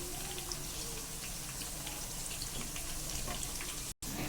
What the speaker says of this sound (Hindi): अब इसको हम पलट कर दूसरी तरफ फ्राई करेंगे